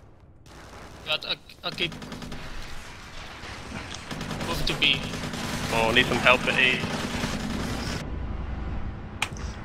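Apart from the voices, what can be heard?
gunfire in a video game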